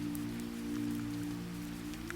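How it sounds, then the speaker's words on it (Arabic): Raindrops fall gently on window glass, a soft steady patter with scattered faint taps under a low steady hum, quiet and continuous, with no voices. "قطرات المطر تتساقط برفق على زجاج النافذة"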